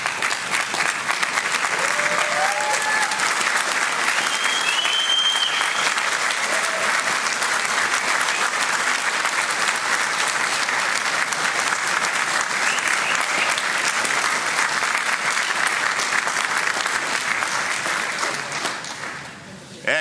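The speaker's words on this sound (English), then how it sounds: "turn to your families and give those families a well-deserved round of applause" Sustained applause fills a 2017 engineering degree-conferring ceremony at the Limerick Institute of Technology in Moylish, steady and dense throughout the hall, with a few faint voices and whistles, then tapering off at the very end.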